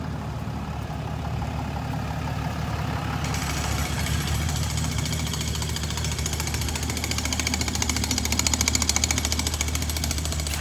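Chevrolet Monte Carlo SS engine running loud and close with a rough, throbbing low rumble, rising slightly in intensity toward the end as it revs, steady throughout with no talking.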